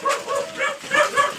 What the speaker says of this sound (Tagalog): Andyan na ang aso ko.